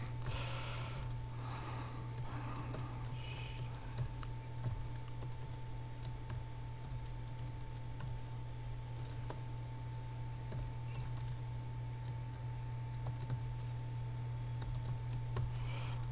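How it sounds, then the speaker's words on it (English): Steady keyboard typing ticks along at low level through the whole stretch, a continuous patter of light key clicks over a constant electrical hum, with no talking. "then we're going to type in the following code"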